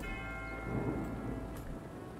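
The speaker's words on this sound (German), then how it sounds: "Wir haben wieder ein wunderschönes äh, Gewitter." A thunderstorm in the hospital management video game Two Point Hospital, heard as faint, steady rain with a low rumble of thunder swelling briefly midway.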